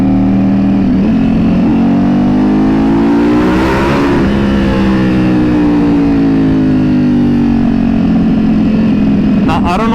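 A tuned Ducati Panigale V4 on a dyno revs hard toward redline, a loud, sustained engine roar that climbs, swells and then falls away, with sharp pops near the end.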